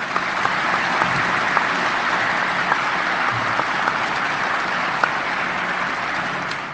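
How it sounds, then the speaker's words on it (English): Audience applauding steadily at a military change of command ceremony for a joint color guard, a dense, continuous clapping of a large crowd, fairly close and sustained throughout without speech. "please join me in a round of applause for all of them."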